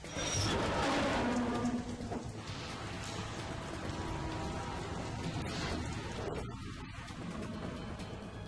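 Video game rain pours down in a dense, continuous hiss, heaviest at the start and easing slightly, with no voices.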